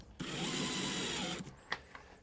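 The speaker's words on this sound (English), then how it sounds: "I'm going to change a bit, I'm going to drill, and then I'm going to change a bit" A power drill countersinking screw holes in flooring whirs steadily for about a second and a quarter, then stops, followed by a few light taps and clicks nearby.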